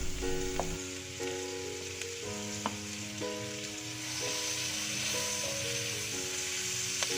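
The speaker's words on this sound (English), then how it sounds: "We are going to saute the garlic. And the white part of the green onion" Garlic and the white parts of green onion sizzle steadily in a hot pan, a continuous close frying hiss broken by a few light taps and stirring clicks, with no voices.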